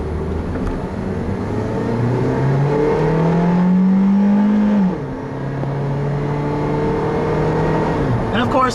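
A 2010 Honda Civic LX-S compact engine revs up steadily while driving, its tone rising to a loud peak, then dropping sharply after a shift and climbing again, with a voice talking over it.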